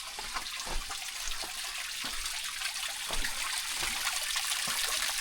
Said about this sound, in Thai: น้ำนี่ไหลตลอดแรงตลอดฝนนะทุกคนเลย